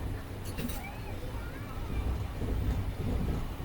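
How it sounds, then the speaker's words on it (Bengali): Steady low rumble and rattle of the Mumbai CSMT to Hingoli Janshatabdi Express, with three banker locomotives, rolling along the rails through a curve, continuous throughout with faint wind noise and no clear voices. "আমাদের ট্রেন একটা সুন্দর কার্ভ নিল এখান থেকে।"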